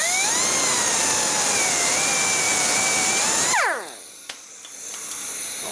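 Cutting through the exhaust pipe of a 1998-2002 Lincoln Navigator during a catalytic converter replacement, a loud steady high-pitched cutting whine with pitch shifts that stops abruptly partway, leaving a quieter background hum.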